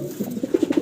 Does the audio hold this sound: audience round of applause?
no